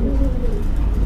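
Magpie pigeons give a low, close, continuous cooing over a brief moment.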